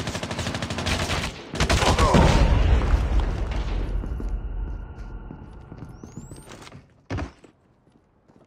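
Semtex grenade explosion amid gunfire in Call of Duty, a heavy booming blast with a rumbling tail following bursts of rapid shots, then a quieter stretch and one more sharp thud.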